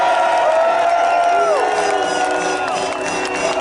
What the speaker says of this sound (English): Hats off, round of applause for Senator Ted Cruz for joining us.